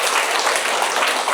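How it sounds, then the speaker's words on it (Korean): An audience at a Sunday Buddhist temple service bursts into applause, a dense, steady wash of many hands clapping together, loud and close with no voices over it. "그분을 위해서 우리 박수 한번 보내주세요."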